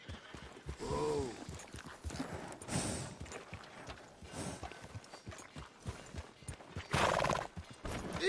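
A horse in the video game Red Dead Redemption 2 neighs loudly early on, then its hooves shuffle and clop irregularly with bursts of tack and movement noise, close by and with no speech.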